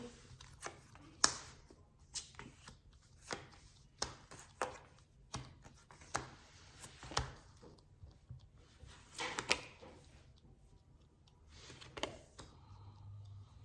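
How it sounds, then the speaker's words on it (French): Tarot cards laid out and turned over one by one on a table during a love reading, giving soft, close taps and slaps spaced about a second apart, with light shuffling between them and no talking. "on dévoile les cartes devant vous"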